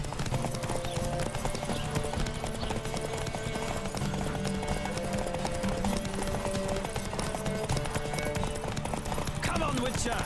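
Galloping horse in The Witcher 3: Wild Hunt on PS5, rapid rhythmic hoofbeats pounding on without a break beneath in-game music and ambience, an occasional neigh and a voice talking over it.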